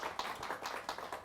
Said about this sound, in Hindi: आप सभी से अनुरोध करता हूं कि मैम का जोरदार तालियों के साथ आज के इस